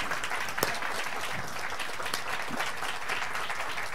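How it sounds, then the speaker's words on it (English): An audience applauds at a chamber of commerce event, a steady wash of many hands clapping together that holds at an even level throughout, moderately distant, with a faint voice underneath. "Give them a round of applause."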